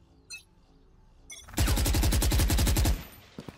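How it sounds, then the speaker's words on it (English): Valorant gunfire: a single rapid automatic burst of about a dozen shots, lasting roughly a second and a half, loud and close, with a few faint clicks and thuds before and after. "He's shooting at me"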